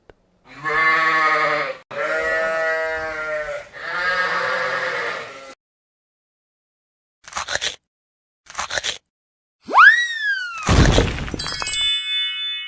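A sheep bleats three long, wavering times in a row in a children's animated learning game, followed by short electronic blips and a sweeping arcade-style sound effect with a crash.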